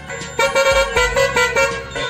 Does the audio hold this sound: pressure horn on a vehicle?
yes